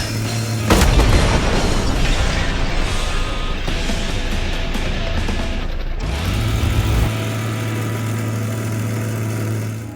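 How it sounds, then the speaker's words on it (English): Scaravan 66 video game combat: a loud burst of gunfire kicks in with a heavy engine rumble and crunching impacts from car ramming, then it cuts back to a steady low engine idle. "mostly it was the burst fire and wanton ram spamming to get the job done"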